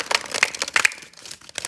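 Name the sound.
shuffling a deck of tarot cards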